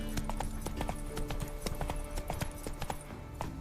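Roach, the horse in the video game The Witcher 3: Wild Hunt, gallops with a quick, steady clip-clop of hooves on the ground, close and continuous throughout.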